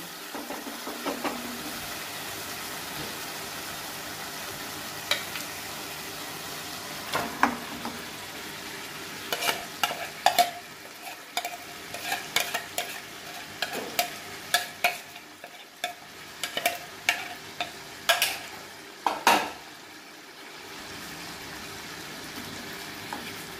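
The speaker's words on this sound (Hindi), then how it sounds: "अब इसको हाई फ्लेम पे रख के हमें मिक्स करना है।" Mutton paya frying in chilli sauce over high flame, stirred with a spoon; a steady sizzle runs throughout, with sharp scraping clicks of the spoon against the pan bunching up in the second half, with no talk.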